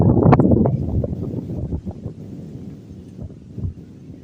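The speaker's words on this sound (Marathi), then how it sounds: "तर वारा पण खूप सारा सुटलेला आहे" Strong wind buffets the microphone with a steady low rumble and gusty roar, loudest at the start and continuing throughout.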